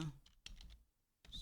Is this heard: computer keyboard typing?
yes